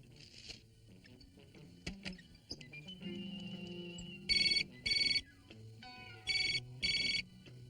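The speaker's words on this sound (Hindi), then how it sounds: "निशा, तुम्हारा फोन है बेटा।" A telephone rings in two paired bursts of bright electronic trills over low background music and quiet noises, fairly faint overall.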